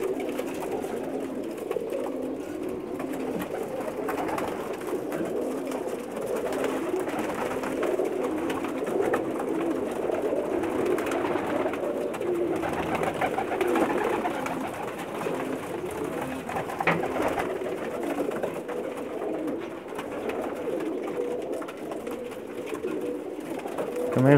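Special pigeons belonging to a master pigeon keeper coo and flutter steadily throughout, a continuous low murmuring bird chorus with soft background activity and faint voices.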